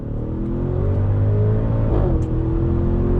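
Audi SQ7 SUV's roughly 500-horsepower engine held on throttle, a steady loud rumbling drone with a slight swell near the end, continuous and close with no talk.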